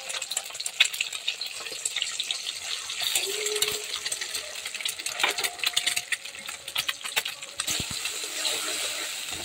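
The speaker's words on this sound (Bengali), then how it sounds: "তো এখন ভালো করে ভেজে নেব ডিমটা।" Eggs sizzle in hot oil in a pan while egg chowmein is cooked, giving a steady crackling hiss throughout with scattered sharper pops and a few clinks, moderately loud and with no talking.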